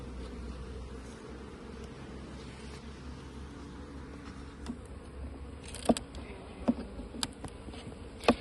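A steady hum of many honeybees buzzing close by at a traditional folk hive, with a few sharp clicks and knocks toward the end.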